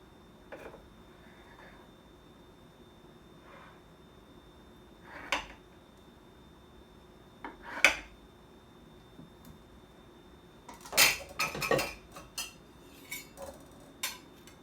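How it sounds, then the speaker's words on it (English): A knife cutting through a chilled, set pumpkin pie in a ceramic dish, heard as a few sparse taps and scrapes against the dish with quiet gaps, ending in a busier cluster of clinks near the end. "So I have chilled it so it's set, and I'm going to slice it."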